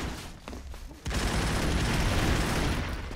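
Rapid video game gunfire in Broforce, a dense burst of shots erupting after a second of quieter sparse pops and continuing loud and unbroken to the end.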